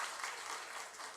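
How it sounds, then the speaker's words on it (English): Faint, brief audience applause after a soulful duo performance at a stakeholders' forum, a distant, soft wash of clapping. "A round of applause once again to these two."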